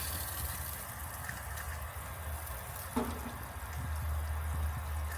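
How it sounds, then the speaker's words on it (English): Water rushes steadily through RV plumbing lines as the supply is turned back on after being off, with a brief sputter of trapped air partway through over a constant gushing flow, no talking. "You guys can hear there's air in the system because the water has been off"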